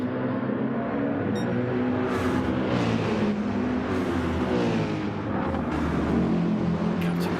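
GT3 race cars in a sim racing game brake and power into a hairpin at Kyoto Driving Park. Layered engines drone and rev without a break, with rising and falling pitch as several cars run close together, loud and steady.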